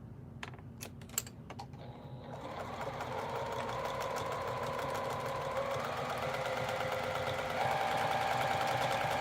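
A sewing machine stitches a cotton pillow, starting with a few sharp clicks and then running in a steady, close, continuous mechanical whir that speeds up slightly toward the end, with no talking.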